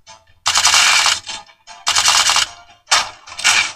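Rapid automatic gunfire in the Girls War Z mobile game, three loud close bursts of rattling shots separated by short pauses.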